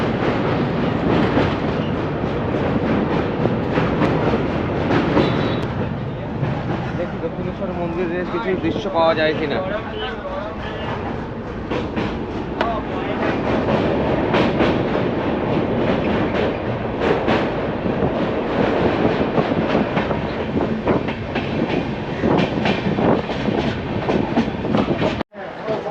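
A Kanchankanya Express train rumbles steadily across the Dakshineswar bridge, with a dense, continuous clatter of the carriages that lasts almost the whole time. People talk nearby over the noise.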